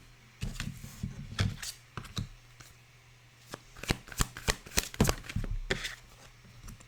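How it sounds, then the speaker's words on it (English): Tarot cards are shuffled by hand in a quick series of crisp riffling and slapping bursts, close and fairly soft against a quiet room with a low hum, with no one speaking. "Let's pull you some of the tarot cards and then we'll speak about it"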